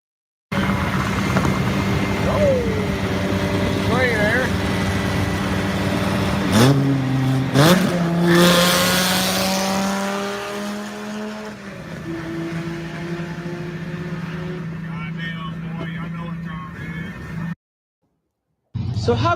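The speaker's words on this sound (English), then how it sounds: "we have some clips of the Viper, just how it sounds going down the highway" A third-generation Dodge Viper V10 cruising down the highway, its deep engine rumble steady and then rising as it revs and shifts, loud and fairly close, with wind noise and a brief cut near the end.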